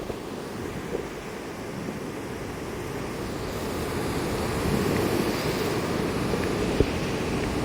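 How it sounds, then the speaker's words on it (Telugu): Monsoon water flowing at Naneghat waterfalls in Maharashtra, a steady broadband rush and roar with wind-like noise, constant throughout and swelling slightly toward the end, with no voices. "వాటర్ ఫ్లో చూడండి."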